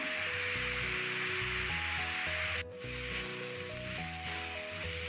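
Vegetables sauté in a pan for homemade pasta: a soft, continuous sizzle with scraping and stirring under background music, briefly cut off midway.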